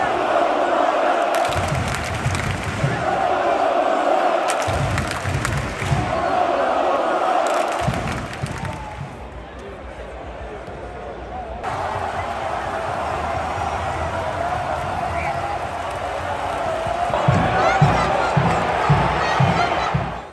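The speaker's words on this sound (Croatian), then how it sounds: "Svi su navijali i pjevali." A big crowd of football fans cheers and chants in rhythmic bursts at Poljud stadium during a match against Slovenia, the roar steady and loud with surging waves, and a voice speaks over it.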